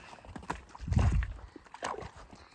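Horses on a farm with mares, stallions and foals for sale walk over hard ground, a few soft hoof clops close by, one heavier thud near the middle, with a faint voice briefly in the background.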